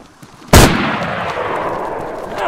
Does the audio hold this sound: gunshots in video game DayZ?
yes